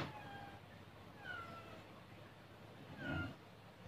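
Cats in a pet shop give several drawn-out meows, faint and spaced apart over a steady background hum, with one slightly stronger cry near the end.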